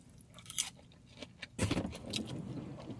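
A car door is opened from inside a hot parked car: some close handling rustles and small jangles, then a sharp latch clunk followed by softer shuffling and movement, all fairly quiet and with no talking.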